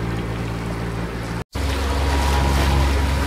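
A fishing charter motorboat heads out from a harbour past a sugar wharf and jetty on the Barrier Reef coast, a steady low engine drone over water and wind, close and loud, with a brief dropout midway.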